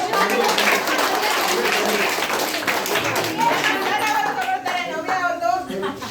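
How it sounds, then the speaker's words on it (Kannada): Applause rolls through a children's prize ceremony at a state children's committee event, a dense continuous patter of many hands, close and loud, with voices talking and calling out over it toward the end. "ಚಪ್ಪಾಳೆ"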